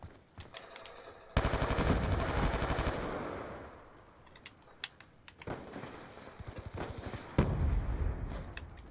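Rapid automatic gunfire from the video game Call of Duty 2, dense crackling bursts that start abruptly, fade, then return in a second heavy volley, loud and close with no talking.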